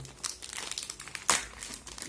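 A Beyblade Burst booster packet is torn open by hand, giving a run of crisp plastic crinkles and one sharper rip midway, close and fairly quiet, with no voices.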